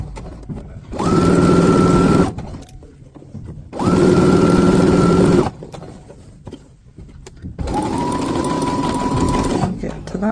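Sewing machine stitching a shirt collar through layers of fabric, three loud motor bursts of steady whirring stitching, each a couple of seconds long with short pauses between.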